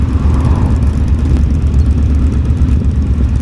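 Motorcycle engines rumble at the Distinguished Gentlemen's Ride in Edinburgh, a loud, continuous low drone of several bikes running together, near and steady throughout with no talk.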